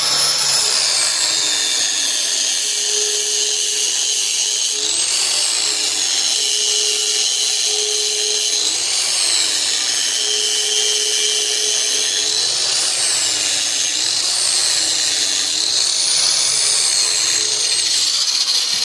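Angle grinder grinding a flat into the side of a steel shank for a homemade trapping drag, a loud steady high whine with the pitch dipping and recovering in repeated cycles as the disc bears down on the metal, with no talk.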